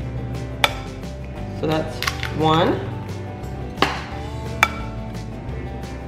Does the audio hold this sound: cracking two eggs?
yes